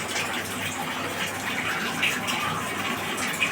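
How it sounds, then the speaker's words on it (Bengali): Water is poured into meat curry cooking in a pot, a steady close gushing splash that lasts the whole moment without pause. "মাংস জল দিয়ে দিচ্ছি"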